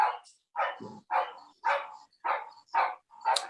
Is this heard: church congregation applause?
no